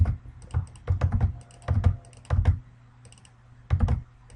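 Typing on a computer keyboard sounds in quick clusters of close, crisp keystrokes with brief pauses between bursts, without any voices.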